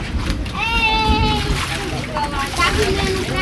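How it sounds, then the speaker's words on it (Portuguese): Floodwater after heavy rain splashes and sloshes into a flooded house from the kitchen, a loud continuous watery churn with people talking over it. "A água tá vindo da cozinha pra dentro de casa."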